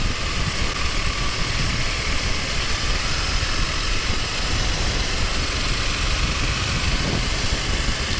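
A 2001 Aprilia RSV Mille motorcycle with a Rotax V-twin engine runs loud and close, giving a steady, unbroken throb that holds an even level throughout, with no voices.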